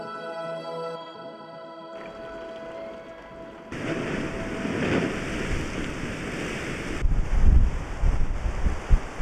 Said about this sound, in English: it's really, really windy and quite wet